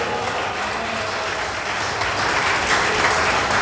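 Church congregation clapping their hands during a worship service: dense, loud, sustained applause from many people, continuous throughout and building slightly toward the end.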